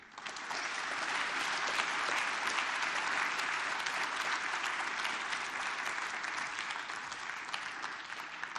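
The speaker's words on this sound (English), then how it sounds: "A round of applause for the 3 nominees" An audience gives a sustained, even round of applause honoring distinguished fellows at a recognition ceremony, dense clapping rising quickly and holding steady throughout.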